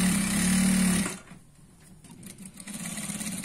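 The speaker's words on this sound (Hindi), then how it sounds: "तो मैं यहाँ पे सीधा नीचे सिलाई लेते हुए चले जाता हूँ" Sewing machine stitching a seam down a Punjabi dress, running loud and steady for about a second, then stopping, with quieter handling noises after.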